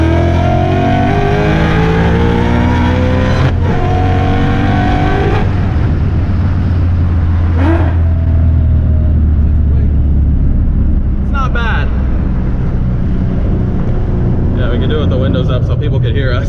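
Race car engine pulling hard in third gear on drag radial tires, heard loud from inside the car as the revs climb in repeated rising sweeps between shifts.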